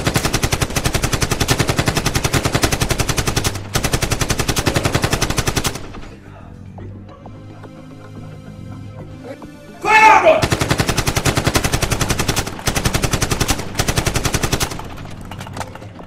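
Sustained machine-gun fire in a Nigerian movie scene rattles loud and near in long rapid bursts, breaks into a quieter pause, then resumes in heavy volleys.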